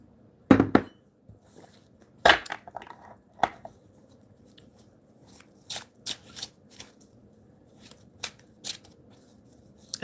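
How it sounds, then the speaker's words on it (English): Tarot cards are shuffled during a live reading: sharp riffling bursts and softer slaps come in irregular clusters, close and fairly quiet, with gaps of near quiet between them. "I'm shuffling for you, Renata"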